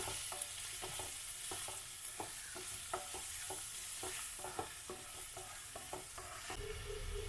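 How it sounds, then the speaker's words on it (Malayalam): Turmeric and Kashmiri chilli powder fry in a pan with a soft continuous sizzle, while a spoon scrapes and taps against the pan in a steady, quiet stirring rhythm, close and alone. "ഇനി ഇതൊന്ന് നമുക്ക് ഇളക്കി യോജിപ്പിക്കാം."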